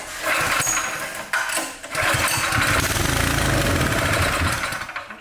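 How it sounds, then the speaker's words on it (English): A Cub Cadet small engine fed with sprayed starting fluid cranks and catches, running loud and rough with a rapid chattering putter, sputtering briefly before settling into a steady near roar that fades at the end. "So I wanna show you that this engine runs."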